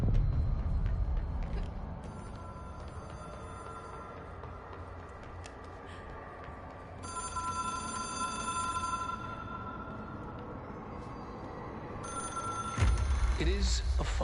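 A telephone rings in the game Control, its bell sounding in repeated bursts over a low ambient drone, with a voice talking over part of it.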